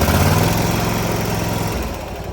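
A lawn mower engine idles loudly up close with a steady rough chug, then drops slightly in level near the end.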